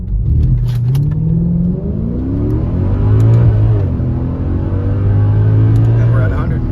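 A Mercedes AMG with a history of mechanical problems makes a hard launch. The engine roars and climbs in pitch through several gear changes, staying loud and close the whole time.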